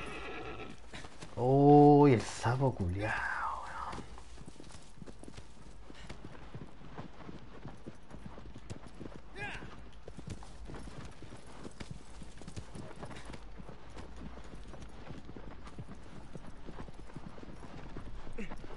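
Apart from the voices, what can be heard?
horse neighing and hooves clip-clopping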